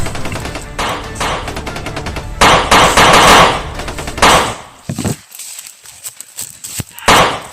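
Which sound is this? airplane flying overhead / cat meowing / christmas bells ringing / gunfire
gunfire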